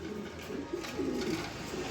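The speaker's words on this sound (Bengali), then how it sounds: "এক পিস রেস করা নর কবুতর আছে" A male racing pigeon coos softly nearby, a low throaty warbling rising and falling over faint background noise, with no talking.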